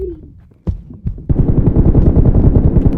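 Video game gunfire: a few sharp single shots, then a rapid, loud stream of automatic fire that keeps going to the end, close and dominant with no talking.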